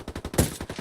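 Gunfire in a tactical shooter video game rattles off as a quick burst of rapid shots with one louder crack near the middle, close and sharp.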